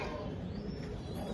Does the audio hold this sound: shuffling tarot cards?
no